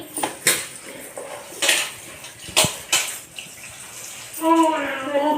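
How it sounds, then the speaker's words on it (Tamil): Kuppaimeni herb leaves rinsed by hand in water in a vessel, with repeated sharp splashes and clinks of the container at irregular intervals and a brief running-water trickle at the end. "இதை வந்து தண்ணியில் அலசி"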